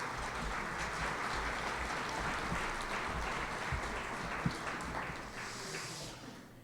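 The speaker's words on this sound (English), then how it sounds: "please, a round of applause for all of our supporters" An audience at an awards ceremony applauds, a dense, steady wash of many hands clapping at a moderate distance that carries on for several seconds and then tapers off at the end.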